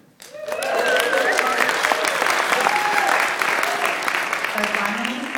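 Sustained audience applause for a Michigan food policy charter at a local food talk, rising quickly and holding steady and full for several seconds, with some voices mixed in.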